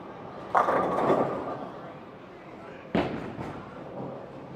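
On a bowling lane, a ball rolls and strikes the pins with a sharp, clattering crash, followed by a second crash a few seconds later, over steady alley background noise.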